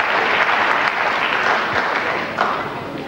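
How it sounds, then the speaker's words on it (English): A wrestling crowd at a classic British bout applauds two young wrestlers, a steady, dense wash of clapping that holds loud and even throughout with no voices standing out. "Nice lot of applause for these two youngsters on their first appearance in front of the cameras"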